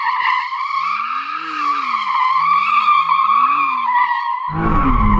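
Tyres squeal in long wavering, sliding notes as a McLaren Artura plug-in hybrid supercar with an electronically controlled limited-slip differential drifts, loud and close, with engine tones rising beneath, ending in a burst of broadband engine and tyre noise.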